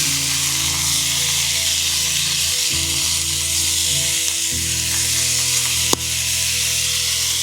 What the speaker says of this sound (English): Put this bacon in there.